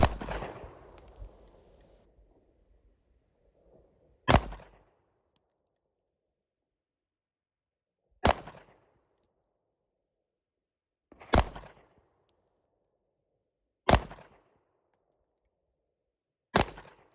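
Micro compact pistol fired at a shooting range, five sharp, loud single shots spaced a few seconds apart, each with a short ringing tail, and quiet gaps between them.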